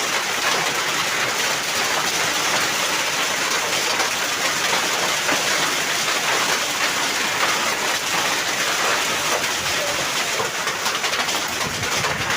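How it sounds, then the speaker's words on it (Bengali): Heavy hailstorm with ice pellets pounding the ground and roofs, a dense, loud, unbroken roar of impacts throughout, no voices. "অনেক বেশি শিলাবৃষ্টি"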